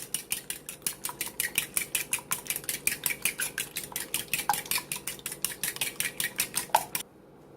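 A utensil beats tater tot casserole ingredients in a bowl with a fast, steady run of close clinking taps, about three per second, alone without talk, stopping abruptly.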